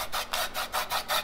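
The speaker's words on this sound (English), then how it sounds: "Right now, Kiana is scraping the lemon skin right now." Lemon skin is scraped while preparing Cameroonian beignets soufflés, giving about six quick, evenly spaced rasping strokes close up, with no talk.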